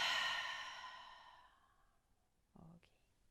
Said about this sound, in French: et expire par la bouche.